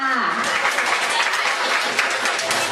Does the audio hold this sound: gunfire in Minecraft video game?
no